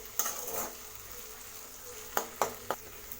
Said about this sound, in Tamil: இஞ்சி பூண்டு பேஸ்ட்டோட பச்சை வாசம் போகிற அளவுக்கு இது நம்ம 1 நிமிஷம் நல்லா வதக்கி விட்டுக்கலாம்.